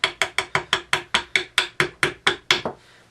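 A hammer drives the front sight out of the dovetail on a Remington 1100 shotgun barrel: about a dozen sharp metallic strikes at a steady, brisk rhythm, loud and close, ending in a softer final tap.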